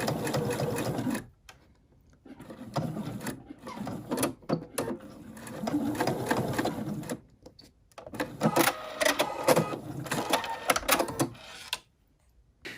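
A sewing machine stitches fabric Christmas ornament pieces in three close, steady bursts of rapid mechanical whirring, each cut off by brief pauses as the seams are sewn.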